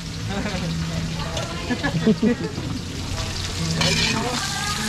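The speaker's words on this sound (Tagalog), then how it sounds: "gigisa muna natin" Onions sizzling and frying in a pan while being stirred for a catering dish, a steady close crackle with scraping stir sounds and a person talking over it.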